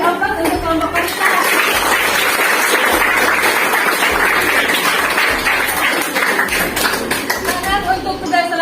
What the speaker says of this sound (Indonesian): Mari kita beri aplaus untuk kelompok wanita.